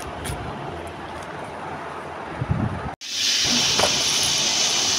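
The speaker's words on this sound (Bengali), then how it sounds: "আমাদের মাছ ভাজা হচ্ছে" Snakehead fish sizzling in hot oil in a wok, a steady hiss that cuts off briefly and returns louder and brighter, with no talk.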